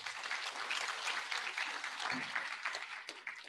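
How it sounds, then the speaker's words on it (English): Audience applause at an International Women's Day celebration in Kenya, a dense, steady wash of clapping from a crowd that holds through the whole stretch with a faint voice or two underneath. "Can we give him a clap?"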